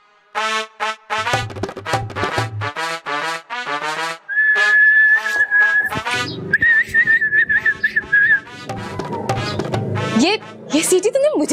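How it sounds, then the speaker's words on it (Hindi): A person whistles sustained, steady tones in a drama scene, two long held notes with shorter whistled bits, amid talking voices before and around it. "ये सीटी तुमने मुझे देख के बजाई है?"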